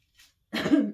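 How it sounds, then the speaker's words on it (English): A single chesty cough bursts out close and loud after a faint breath, heavy and rough, with no talking around it. "it's given me a chesty cough again"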